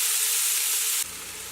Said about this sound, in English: We're going to stir that, saute it if you will, until it becomes tender